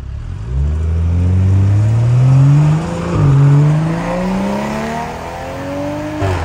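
An eight-year-old BMW 640i engine revs up through rising pitches, shifting and climbing again in loud, close surges.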